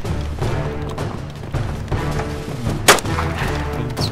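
Gunfire in DayZ standalone amid dense game noise, with a sharp loud shot standing out near the end over a continuous low rumble and clatter.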